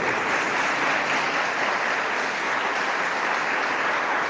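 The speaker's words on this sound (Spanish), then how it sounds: "Vamos a darle un aplauso a la Santísima Virgen María" A church congregation applauds in honor of the Virgin Mary, a continuous, even wash of many hands clapping with no clear break, heard alone without talk.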